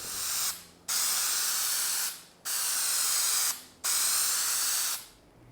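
Three long bursts of aerosol spray hiss onto the back of a paper wrap for a 1/100 scale Estes Saturn V model rocket, each lasting about a second and a half, separated by short pauses, close and loud.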